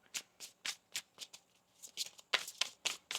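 Tarot cards being shuffled by hand, a quick close series of crisp riffling flicks in an irregular rhythm, alone without talk.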